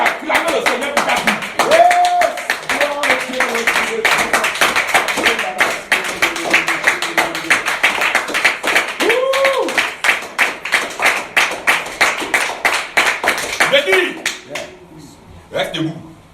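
A church congregation clapping in rhythm to acclaim the Lord, loud, close, steady clapping that continues for most of the stretch, with voices speaking over it.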